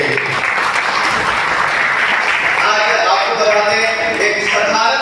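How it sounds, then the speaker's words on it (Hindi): An audience at a DXN business talk in Basudebpur claps loudly and continuously, a dense wash of applause that swells slightly toward the end, with voices mingled in. "जोरदार ताली होना चाहिए"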